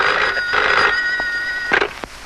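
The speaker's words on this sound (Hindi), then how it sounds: "आपके लिए फोन सुरेश अखबार वाला।" An office telephone rings in a dramatic scene, with two loud close bell bursts of electronic ringing followed by a couple of faint clicks.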